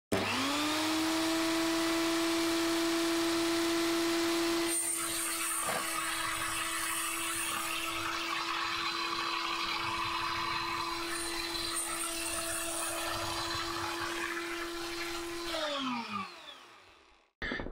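A small saw with a straight-cut sledge trims the ends of model ship panels to length, its motor a steady high whine that shifts in tone as the blade bites for several seconds before spinning down.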